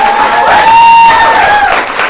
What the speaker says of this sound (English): I want one more round of applause for our awesome